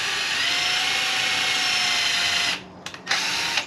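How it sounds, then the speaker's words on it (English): A power drill whines steadily at high speed boring into a potato cannon build, then stops and gives a couple of short bursts before spinning up again. "I'm gonna drill it right where that neck is."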